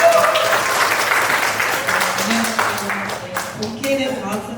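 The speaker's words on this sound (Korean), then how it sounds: "큰 박수로 모시게 되도록 하겠습니다" An audience applauds a speaker coming on stage at a science event, a full burst of clapping that runs throughout, with a voice talking over it toward the end.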